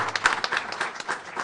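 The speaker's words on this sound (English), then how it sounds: "Give them another round of applause." Audience applause at a school board of education meeting, a brief burst of scattered hand claps in a meeting room, moderate and slightly uneven.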